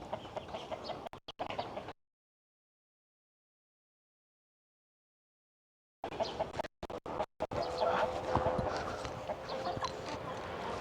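Chickens clucking at a village chicken farm in Laos, loud bursts of clucking before and after a stretch of silence, with steady farmyard background.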